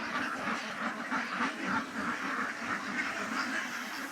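Many ducks at a duck farm in Abu Dhabi quack continuously in a dense, overlapping chorus at moderate distance, with no pauses.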